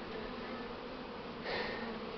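Honey bee swarm entering a hive, a steady, dense buzzing hum that holds close and continuous throughout and swells a little louder near the end.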